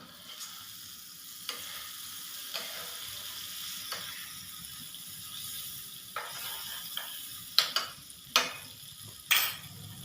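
Steady, quiet sizzling of butter in a small tempering pan over low heat, with a few sharp clinks and scrapes of a spoon against metal toward the end.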